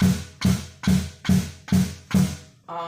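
A cajon bass thump, played with a kick pedal, repeats six times at an even, moderate tempo, close and solo, each hit ringing briefly before the next.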